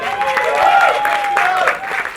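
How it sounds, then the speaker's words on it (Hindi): An audience claps for the CEO at a song launch event. The applause is dense and continuous for about two seconds, with a tonal sound and some voices mixed in. "एक बार जोरदार ताली होनी चाहिए"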